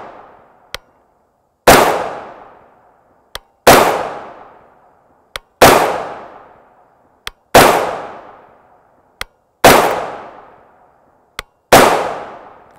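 Six rifle shots from a 16-inch-barrel rifle firing Winchester M855 5.56x45mm green-tip rounds, evenly spaced about two seconds apart, each a loud sharp crack with a ringing decay, heard alone with faint clicks between shots.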